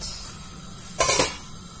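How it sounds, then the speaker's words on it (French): A utensil stirs carrots into softened onions in a pan, giving a brief cluster of three quick metallic scrapes and clinks, close by in an otherwise quiet kitchen. "Maintenant que les oignons se sont ramollis, on va rajouter les carottes. Je mélange aussi"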